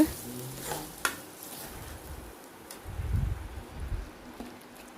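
Ground masala being stirred and fried in oil for a spinach (palak) thokku, a soft sizzle with faint spoon scrapes and gentle swells of frying, quiet and close.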